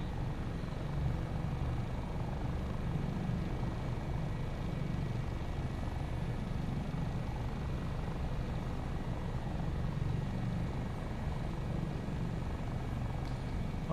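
An AS365 N2 Dauphin helicopter of 658 Squadron AAC hover taxiing, heard from inside as a steady, moderately loud rotor and turbine drone with a rhythmic low pulsing that continues unbroken.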